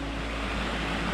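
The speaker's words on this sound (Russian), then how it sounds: "здесь настоящий горный ручей. Вода течет прям с гор." Steady broadband rush of a mountain stream in Crimea flowing straight from the mountains, tumbling over rocks, continuous and fairly close with no voices.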